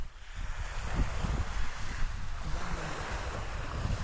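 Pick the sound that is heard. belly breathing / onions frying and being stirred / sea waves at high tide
sea waves at high tide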